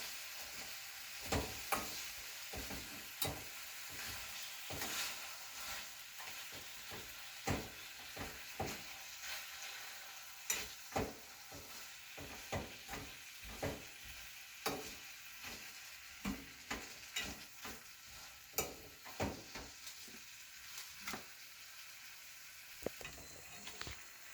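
Grapes cook down with melting sugar in a pot for jam while being crushed and stirred, a soft simmering hiss broken by repeated sharp knocks and squelches at an irregular, close pace.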